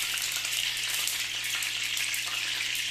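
Whole brinjal bajji deep frying in hot oil, a steady close hiss of bubbling oil that holds evenly for a few seconds with no voices.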